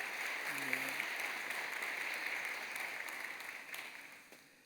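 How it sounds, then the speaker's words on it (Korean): A church congregation claps in welcome for two new ministers. The applause is a steady, distant and fairly faint wash that fades gradually toward the end. "여러분 크게 박수로 환영하시지요."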